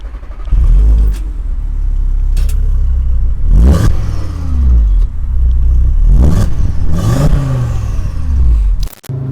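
An Audi TT RS with a 400 hp engine on a test drive, its engine droning steadily and close, swelling into several surging revs with rising gear-change sweeps and a sharp cutoff near the end.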